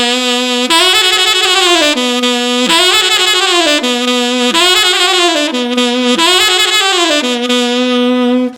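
Solo saxophone playing a blues improvisation phrase: four similar bright, reedy runs, each starting on a held low note and sliding through bent notes, loud and close with short gaps between.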